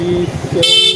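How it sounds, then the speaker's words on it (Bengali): A short, bright horn toot from a motorcycle sounds close by, following a moment of engine rumble. "এই যে হর্ন দিতেছি"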